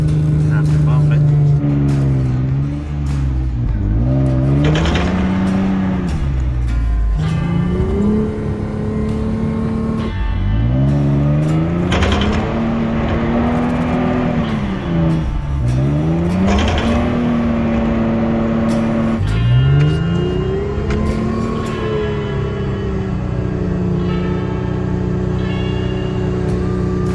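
A car engine repeatedly revs up and drops back while being bump started out on a remote road, several rising whines in succession, loud and close, with people talking over it.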